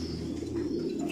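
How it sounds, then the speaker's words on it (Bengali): A racer pigeon coos close by in a loft, a short low throaty burble with no talk over it. "স্পেশাল কবুতর খুবই স্পেশাল"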